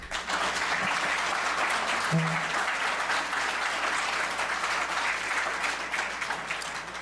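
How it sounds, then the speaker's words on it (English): Steady applause from a sizable audience at a mayoral candidates' debate in Woodstock, dense and continuous throughout, fairly distant in a large room. "They certainly deserve a big round of applause."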